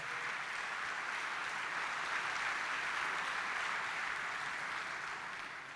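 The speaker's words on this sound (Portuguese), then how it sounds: "Bate palmas para aquele que exaltou a Jesus entre os" A church congregation claps in praise of Jesus, a steady even wash of applause that is fairly faint and distant and carries on without a break.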